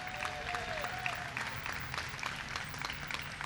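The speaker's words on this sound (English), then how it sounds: "Let's give him a round of applause." Audience applause at the Kosciuszko Bridge opening ceremony, a steady wash of many hands clapping at moderate volume, continuous for several seconds with a faint voice briefly underneath.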